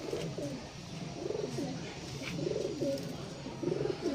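Pigeons coo in low, rolling phrases, repeating several times over a constant background murmur.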